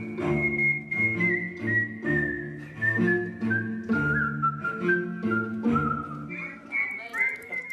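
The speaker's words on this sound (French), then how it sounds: "il reprend en sifflant les plus grands morceaux classiques" Man whistling a classical melody live on stage, a clear bright tune of phrased notes with small pauses between them.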